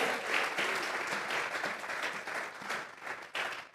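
Congregation in a church service giving a sustained round of applause, dense steady clapping from many hands filling the room throughout, with no voices standing out.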